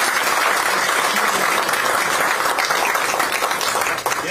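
Steady applause from a crowd at a political agreement-signing ceremony in South Korea, dense clapping holding at an even level for several seconds before easing slightly at the end.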